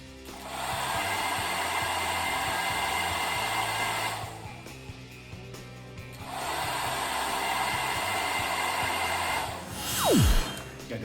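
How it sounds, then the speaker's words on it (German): A hair dryer blows with a steady loud whooshing whine, switched off briefly mid-way and then running again, followed by a short falling tone near the end. "Ich führe das mal hier mit einem Föhn vor."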